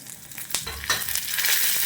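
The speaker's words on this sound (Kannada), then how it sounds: "ಒಗ್ಗರಣೆ ಈಗ ರೆಡಿ ಆಗ್ತದೆ ನೋಡ್ಬೋದು" A tempering of dried red chilies and cumin seeds crackles in hot oil for a brinjal curry, a close, steady sizzle that swells with a few sharp bursts as spices hit the pan.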